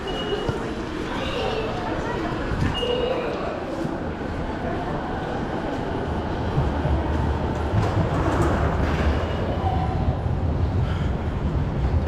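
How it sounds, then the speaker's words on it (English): A train runs toward Akihabara, Japan, with a steady low rumble and clatter that fills the whole stretch and grows slightly louder toward the end, with faint voices mixed in. "So I'm gonna jump on this train"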